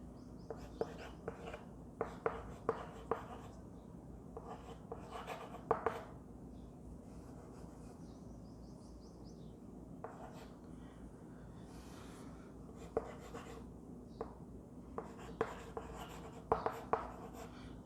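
Chalk or a marker scratches across a board during a biology lecture, with soft, irregular strokes and taps in short bursts over a steady quiet room hum.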